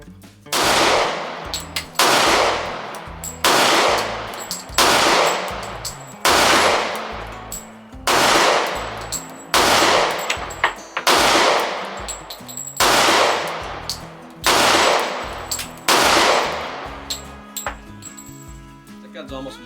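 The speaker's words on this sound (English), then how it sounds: "both gonna do mag dumps" A Smith & Wesson 4006 TSW metal-framed pistol fires about eleven loud, sharp shots in a steady, evenly spaced string, each report ringing briefly before the next, with no talk between them.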